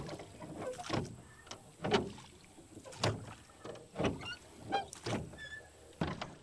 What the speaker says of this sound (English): we're pushing it with the boat